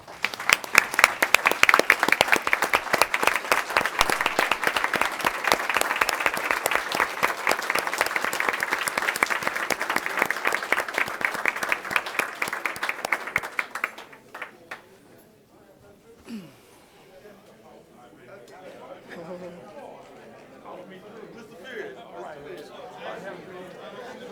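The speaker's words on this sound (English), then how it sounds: "And so we will give you another round of applause" An audience at a board meeting bursts into dense, sustained applause for about fourteen seconds, then it stops abruptly and quiet room murmur and faint talk follow.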